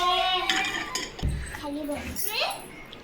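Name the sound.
toy pots and dishes clinking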